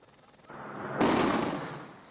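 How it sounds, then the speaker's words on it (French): A blast demolishing rock blocks beside a motorway: a soft onset, then a heavy boom that swells and slowly fades, heard from a distance with no talk. "L'explosion n'est pas spectaculaire, elle est efficace."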